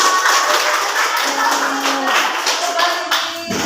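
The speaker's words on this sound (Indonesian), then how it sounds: "beri tepuk tangan untuk semuanya" A class clapping together, steady dense applause from many hands nearby that fades slightly toward the end.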